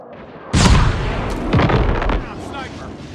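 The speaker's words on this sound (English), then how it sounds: "Napalm deployed." A napalm strike explodes in Call of Duty: Mobile Ground War on the Satellite map, a loud sudden boom that rolls into a sustained roaring burn with a second swell, mixed with game voice callouts.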